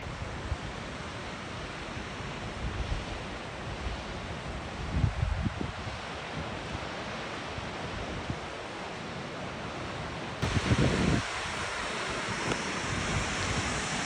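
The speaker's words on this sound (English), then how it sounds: "Paralleling this river waterfall, pretty cool." A river waterfall roars as a constant broad rush of water nearby, with wind buffeting the microphone at moments and no voices.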